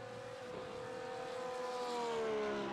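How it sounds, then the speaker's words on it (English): A Porsche race car engine in the iRacing sim, at Spa, whines at high pitch, its tone dipping and then climbing again as it revs, fairly faint and steady with no voices. "you know the Porsche engine sound never gets old"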